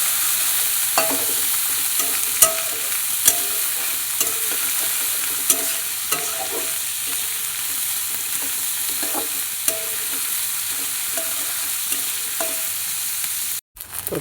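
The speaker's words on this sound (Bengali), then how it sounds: "তো এবার সব সবজি দিয়ে দিয়েছি, ভালো করে একটু ভেজে নেবো।" Vegetables for chow mein stir-fried in a hot pan, a steady broadband sizzle with regular scraping and stirring strokes every second or so, close and fairly loud, with no voices.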